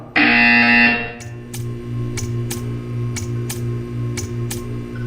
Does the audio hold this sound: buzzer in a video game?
yes